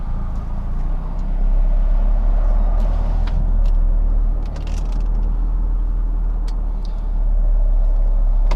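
A turbocharged Mazda Miata pulls away and cruises, heard from inside the car as a steady, loud low engine drone with road rumble and a few faint clicks and thumps.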